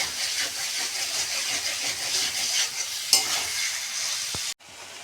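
Steady sizzling and frying hiss from chicken cooking in a pan, close and continuous, with a brief clatter near the end before it suddenly drops quieter.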